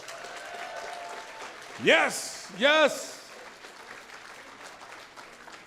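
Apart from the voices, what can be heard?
audience applause at a gala auction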